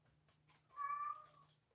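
A cat gives a single drawn-out meow, fairly close and clear, rising then fading over a steady low hum, with no voices over it.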